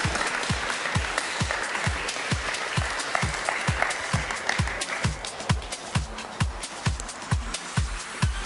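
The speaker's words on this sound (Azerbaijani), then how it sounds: "Alqışlayaq." Audience applause greets a live instrumental ensemble, a steady wash of many clapping hands running the whole time over a regular, deep rhythmic thump, moderately loud and unbroken.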